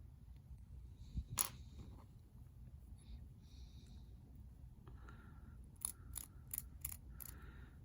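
Back of an X-Acto knife blade scraping mold lines off a plastic scale model, a few faint scratchy strokes followed by a quick run of sharp clicks over low room hum.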